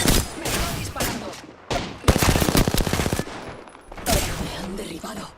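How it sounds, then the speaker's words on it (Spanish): Dense bursts of automatic gunfire and shots in a video game, loud and close, rattling in rapid volleys with brief pauses and a voice talking between them. "Me estoy disparando."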